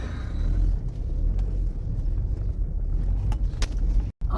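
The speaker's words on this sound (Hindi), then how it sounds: "चलो इस गाड़ी से हम आज ऑफ रोडिंग भी करके देख रहे हैं।" A Mahindra vehicle drives off-road on a rough track in Nepal, with a loud, constant low engine and road rumble, scattered rattles and bumps, and a brief dropout near the end.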